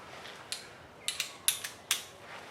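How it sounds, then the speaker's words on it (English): A torque wrench on the differential bolts of a Ford Focus ST makes a handful of faint, sharp metallic clicks and ratchet snaps at irregular intervals against a quiet workshop background. "now I'm going to torque all the bolts down in a star pattern"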